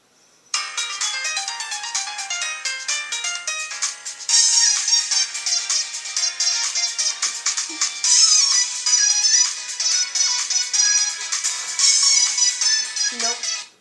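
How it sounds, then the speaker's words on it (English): A bright, busy electronic phone ringtone plays a looping melody for about fourteen seconds, loud and steady, with the phrase restarting every few seconds. "Are you ready for this next ringtone?"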